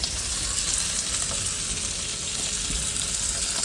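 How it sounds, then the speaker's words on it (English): Steak sizzles loudly and steadily in a hot pan inside a semi truck cab, a constant crackling hiss with small pops and no voices. "sizzling, this is the right sound right now"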